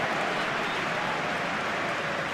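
A virtual stadium crowd in a PES football game, a PSG vs Liverpool Champions League match, cheers loud and steady, a dense continuous roar of noise with no breaks.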